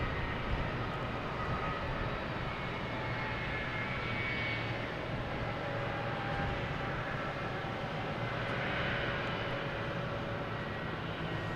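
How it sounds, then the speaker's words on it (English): A JetBlue Airbus A321neo takes off at Boston Logan, its engines a steady, distant broadband roar that holds evenly throughout with no voices. "We have one that just took off of JetBlue heading to London, A321 Neo."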